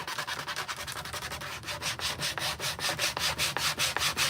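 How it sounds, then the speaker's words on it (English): Rhythmic back-and-forth sanding strokes scrape across a slick printed surface, close and steady, speeding up slightly as they continue with no voices. "maybe I can sand it off"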